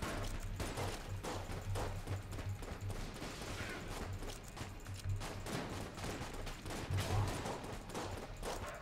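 Jolter gun in a video game firing in dense, rapid bursts of shots throughout, loud and close, with steady low thumps and clattering mechanisms underneath.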